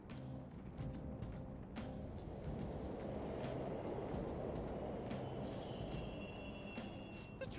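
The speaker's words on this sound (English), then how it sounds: "The trains are totally running!" Subway trains in the video game Persona 5 Royal rumble steadily throughout, a continuous low roar of rolling cars with faint high whines and rattles, no voices.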